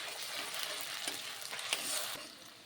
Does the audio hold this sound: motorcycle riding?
no